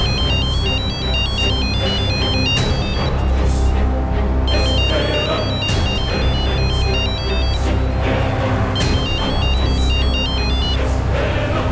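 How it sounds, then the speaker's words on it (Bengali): A phone ringtone plays loud and close, a looping electronic melody repeating steadily for about twelve seconds without pause over a low hum. "ফোনটা তোল ভাই, ফোনটা তোল।"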